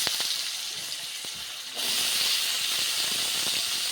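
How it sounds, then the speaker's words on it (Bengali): Vegetables dropped into hot oil with black cumin sizzle in a pan. A soft hiss gives way partway through to a louder, steady frying crackle, close up with no talk. "কালো জিরে দেওয়ার পর আমি সবজিগুলো এক এক করে ছেড়ে দেব।"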